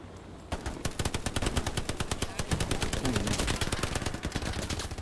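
A DP machine gun hammers away in the Hell Let Loose war game, a fast, steady, loud stream of close shots that starts abruptly and keeps going without a pause.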